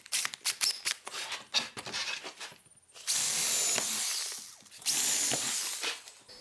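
Power screwdriver or drill driving a couple of screws through the back of a wooden piece into a sacrificial fence in an oak window workshop, heard as two sustained close whirring bursts after earlier clicks and handling knocks.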